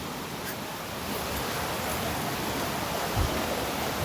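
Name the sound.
water flowing at a waterfall stream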